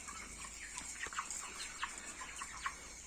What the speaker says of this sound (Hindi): आज हमारे पोल्ट्री बर्ड्स का 28 डेज है